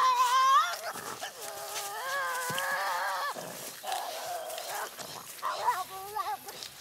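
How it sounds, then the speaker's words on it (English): A Tasmanian devil screeches in loud, sustained, wavering cries with breaks between them, close and raw, with no talk over them. "Then full-scale screeching."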